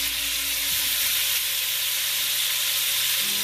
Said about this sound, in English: Just gonna get a nice sear, help it hold some color because I have that browning on it.